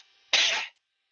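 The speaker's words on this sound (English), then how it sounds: "I sit upright real quick and cough." A single short, breathy cough, close and sharp, cut off abruptly after a faint background hum.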